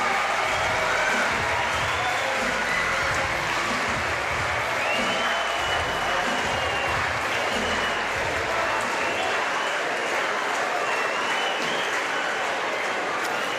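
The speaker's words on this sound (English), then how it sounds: "Celebrations for the Italian supporters." Italian supporters in the crowd at a para table tennis wheelchair singles match applaud and cheer a bronze medal, a dense, steady roar of clapping that holds at full volume throughout.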